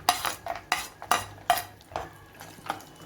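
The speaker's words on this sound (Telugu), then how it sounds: "ఇప్పుడు డ్రై ఫ్రూట్స్ వేసుకొని వేయించుకోవాలి" Dry fruits being stirred in melted ghee, a series of about eight sharp metallic scrapes and clinks of a spoon in the pan at an uneven rhythm over a faint sizzle.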